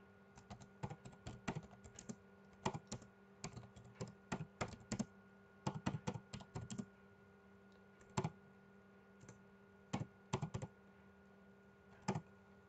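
Someone types on a computer keyboard in short bursts of crisp, close clicks, with brief pauses between groups of keystrokes, over a faint steady hum, while entering a name for a Windows 10 restore point.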